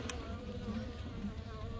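Honeybees droning steadily at an open hive during requeening, a continuous close buzz filling the whole moment with no voices over it.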